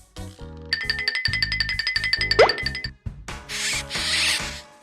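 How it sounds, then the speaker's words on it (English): A mouse squeak over a bouncy children's tune: one short, sharp rising chirp partway through, loud and close, with steady plucked music around it. "A mouse makes a squeak sound."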